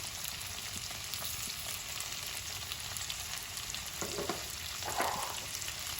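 Roughly chopped tomatoes cooking down in a pan for butter chicken give a faint, steady sizzle with occasional soft stirring scrapes, with no talking.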